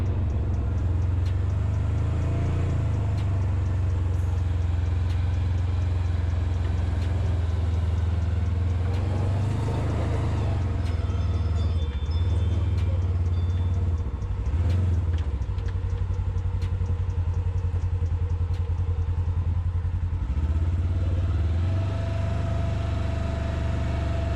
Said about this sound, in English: It gets up to 30 pretty instantly, just with half throttle.